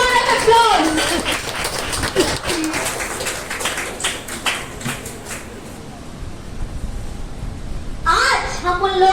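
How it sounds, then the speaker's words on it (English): An audience claps at a Teachers Day celebration as a guest is welcomed. The rapid, scattered claps build early, thin out midway, and run under a voice that speaks at the start and again near the end. "Big round of applause."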